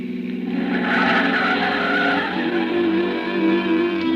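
A pre-war car turning, played as a radio drama sound effect: a steady, loud, strained engine drone and tire squeal that carries throughout, with no talk.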